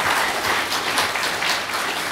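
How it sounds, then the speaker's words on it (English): Audience applause at a tech meetup on Apache Cassandra, a steady wash of many hands clapping that holds evenly for a couple of seconds without talk. "I want to give a great big round of applause to Patrick McFadin"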